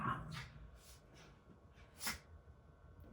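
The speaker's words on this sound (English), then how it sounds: "My little family's up, snorking and growling, and Tiny is very expressive in the mornings" Small pet dog snorting and snuffling in the morning, a few quiet breathy snorts and sniffs spaced apart, close and soft, with no talking.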